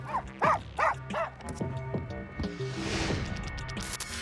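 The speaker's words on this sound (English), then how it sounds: "Those dogs are crazy." Dogs bark excitedly in the back of a car, several loud barks and yips close by, followed by whimpering and mixed noise inside the vehicle.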